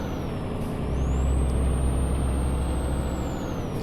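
A Peterbilt 387 truck in Euro Truck Simulator 2 brakes with a steady low engine rumble and a long, high, whistling air-brake tone that rises and then slowly falls, loud and close with no talking.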